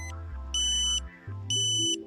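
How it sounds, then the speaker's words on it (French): Alternating two-tone pointing signal from a KA-SAT satellite modem during dish installation, sounding like an ambulance siren: low and high electronic beeps switching back and forth in a steady loud cycle, with no talk. "Vous entendez une nouvelle fois la tonalité d'ambulance."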